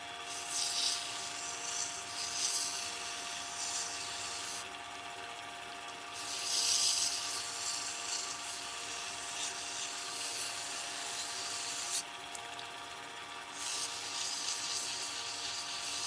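Wooden pen blanks are sanded by hand with 400 grit sandpaper, giving soft, repeated rubbing strokes that rise and fall in gentle passes. The strokes sit over a steady background hum, quiet and close, with no talking.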